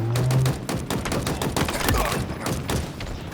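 The Commando rifle in Halo Infinite fires a rapid burst of shots, loud and close, with a dense rhythmic stream of cracks in the game's combat.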